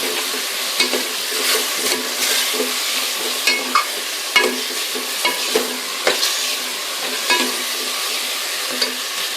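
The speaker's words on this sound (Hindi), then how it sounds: "अब इसमें अरबी यानी कचालू शामिल करेंगे। इन अरबी को एक मसाले में अच्छी तरह से भून लेंगे।" Taro (arbi) pieces fry in masala in a hot pan while being stirred, a loud close sizzle broken by repeated scraping stir strokes, with no voices.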